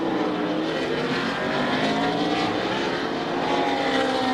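Jeff Gordon's number 24 NASCAR race car roars around the Sonoma road course, a steady, loud engine drone holding throughout with no break.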